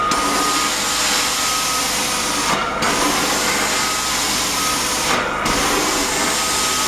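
A Prowler Lioness 25 hp portable truck mount carpet cleaner with capture tank runs steadily at close range, giving a loud, constant vacuum roar and hiss, with two brief dips where the wand lifts off the carpet.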